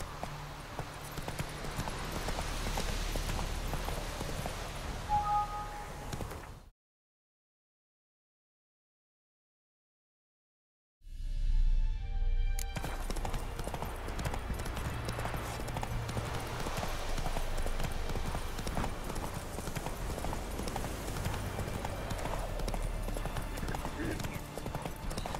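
Roach the horse's hooves clop in a Witcher 3 ride, a steady trotting beat under game voices and music, broken by a few seconds of total silence midway before resuming.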